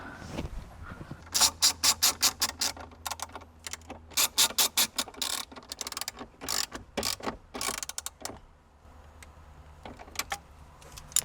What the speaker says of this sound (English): make sure when you're putting these back in, it is just hand tight and you don't want to over torque them